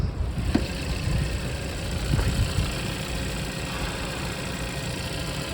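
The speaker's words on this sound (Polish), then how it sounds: "Silnik pracuje równo, cicho, po prostu prawidłowo." Hyundai Tucson 1.6 turbo engine idling steadily under the open hood, a smooth, even low rumble with a faint ticking layer, close and constant with no voices.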